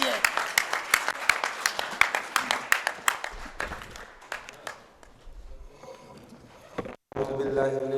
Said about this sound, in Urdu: جناب رحمان علی باجوہ، بھرپور تالیوں میں، بھرپور تالیوں میں قائد کا لیڈر کا خراج تحسین پیش کیجیے